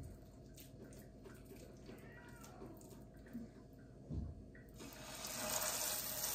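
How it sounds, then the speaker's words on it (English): Hands being washed under a running kitchen tap while making cod cakes, with a steady rush of water that grows brighter and louder toward the end, plus faint handling sounds. "Wash my hands."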